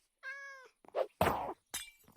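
A cat in Minecraft meows once, a clear tonal call, followed by a few short thuds and bursts of noise, close and alone with no talking.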